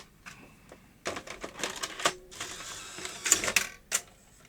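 A Sony J3 professional video player with several faults loads a large tape. Mechanical clicks, clunks and a whirring transport follow one another over a few seconds, close and fairly loud, with no talking.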